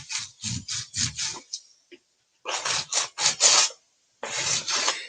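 Rough abrasive rubbing strokes on a painted vintage oval frame being distressed, quick rasping back-and-forth passes in three close bursts separated by brief pauses, loud and near.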